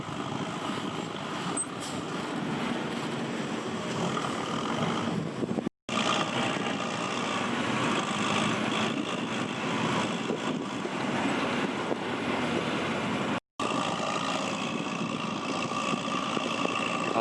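A heavy diesel engine of a Ford 6640 tractor rumbles steadily under load while pushing dirt, droning without pause and broken only by two brief cuts, with some wind noise on the microphone.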